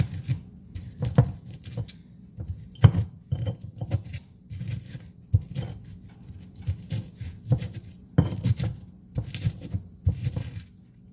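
Garlic cloves and kosher salt ground in a stone molcajete, a run of close, rhythmic dull thuds and gritty scrapes repeating steadily with brief pauses between strokes.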